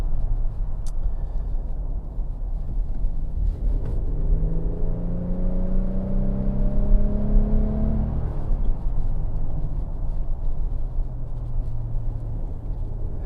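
Engine of a 2025 Infiniti QX80 Autograph luxury SUV pulling to higher RPMs, a steady rising drone with synthetic-sounding augmented tones sweeping up over road rumble, then settling back to a low cabin hum.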